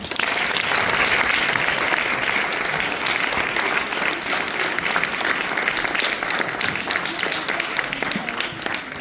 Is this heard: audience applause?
yes